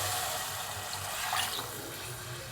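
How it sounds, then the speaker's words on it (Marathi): Half a tambya of water poured into a pot of moth beans (matki) over onion sautéed with hing and turmeric, giving a steady, close rushing splash for a couple of seconds with no voices. "हे एवढा अर्धा घातला मी तांब्या पाण्याचा"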